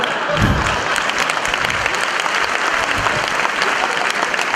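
An audience claps loudly and steadily throughout, a dense wash of many hands at close range with no pauses.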